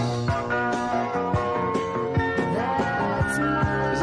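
A cover song plays as a mellow recorded song with sustained tones, soft piano-like notes and a gliding melodic line, at moderate level throughout with no one talking over it.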